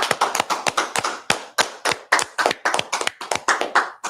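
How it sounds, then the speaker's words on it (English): A church congregation claps in a loose, rhythmic stream of sharp hand claps, many hands close by, alone with no talking over it for about four seconds. "Let's clap it up."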